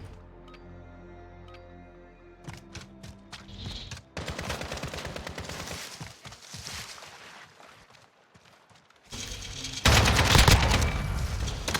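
AK rifle fire in Modern Warfare (2019), loud full-auto bursts and rapid single shots in separate clusters, ending in a heavy sustained volley.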